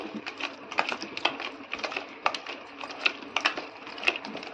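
Potato bonda batter being mixed and kneaded by hand in a bowl, a steady run of soft, close, wet slaps and squelches repeating irregularly for several seconds without talk.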